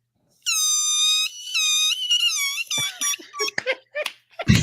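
A person imitates a dolphin with high, squeaky whistling tones, a few sustained squeals followed by a rapid burst of shorter chirps and clicks, close and fairly loud, and no talking during it.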